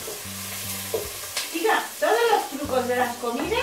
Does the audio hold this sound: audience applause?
no